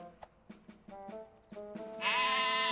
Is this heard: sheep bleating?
yes